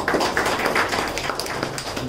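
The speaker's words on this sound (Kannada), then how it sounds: "ಮತ್ತೊಮ್ಮೆ ಅತಿಥಿಗಳಿಗೆ ಒಂದು ಜೋರು ಚಪ್ಪಾಳೆ ಕೊಡೋಣ" Crowd applauds the guests at a painting solo exhibition, a dense patter of many hands clapping steadily at medium distance that gradually thins out.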